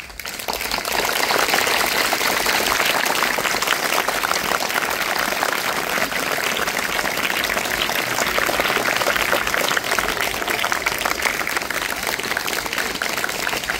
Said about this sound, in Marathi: आपण एक जोरदार टाळी देऊया